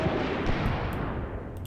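Dense, continuous gunfire rattles through a WW2 desert tank battle in North Africa, loud and close, a rapid roar of shots that stays unbroken and then eases slightly toward the end.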